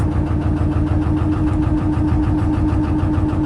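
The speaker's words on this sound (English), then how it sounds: "Still can't hear a bloody thing over the sound of the lister" A Lister diesel engine on a narrowboat chugs steadily nearby, a low, even throbbing with a constant mechanical hum and no voices.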